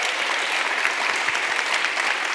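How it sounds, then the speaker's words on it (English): An audience claps loudly and steadily for panelists at a live climate justice dialogue event, a dense, even burst of applause with no talk. "please give a very loud applause for our panelists today"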